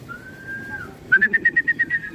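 A racing pigeon arriving at its loft during a summer race toss, heard as a close, loud whistling note followed by a rapid run of pulsing wingbeat flutters, alone without talk.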